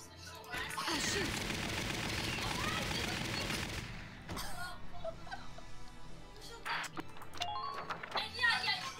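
Rapid gunfire in Valkyria Chronicles, a dense automatic burst lasting about four seconds, is followed by quieter scattered sounds and voices, all heard up close.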